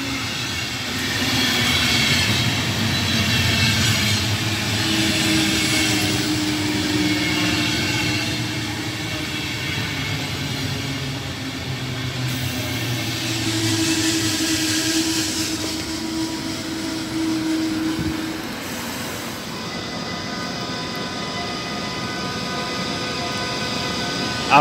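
An IC train hauled by a class 101 electric locomotive pulls out of Uelzen station, a steady loud rumble of wheels and traction with tonal whine rising and falling across the whole stretch.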